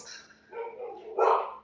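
Dogs barking at a visitor arriving at a house, a few short barks that swell louder toward the end of the brief stretch, fairly close and heard alone.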